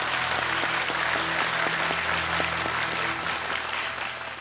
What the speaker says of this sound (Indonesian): Ini dia Mas Roni Bodax, boleh tepuk tangan untuknya.